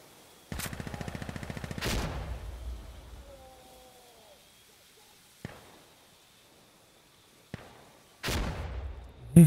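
Gunfire in the tactical shooter game Insurgency: a rapid automatic burst, then a few sharp single shots spaced apart and another burst at the end, fairly loud with quiet gaps between.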